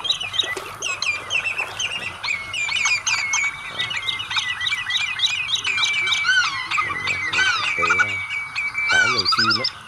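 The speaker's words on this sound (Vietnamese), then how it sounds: "Nhiều chim luôn" A dense chorus of many birds squawks and chirps at once, with loud overlapping harsh calls and high twittering that carries on continuously near the listener.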